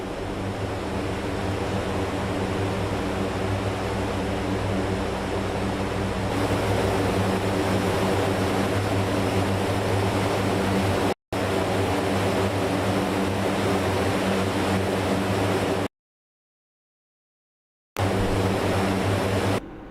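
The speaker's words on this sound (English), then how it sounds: "is that C-130 taking off right now?" A C-130 in an Afghanistan-map video game roars with a loud, steady propeller drone that holds for the whole stretch, broken by abrupt dropouts into silence as the game lags.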